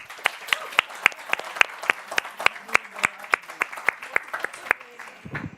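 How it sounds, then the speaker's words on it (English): Rhythmic audience clapping at the ESN Sweden national assembly in Lund: a crisp, steady beat of sharp claps about four per second, close and fairly loud, stopping abruptly near the end. "You can actually clap."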